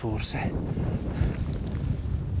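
Mountain wind blows steadily near a glacier on the normal route up Gran Pilastro (Hochfeiler), 3510 m, in the Zillertal Alps, a continuous rushing roar buffeting the microphone.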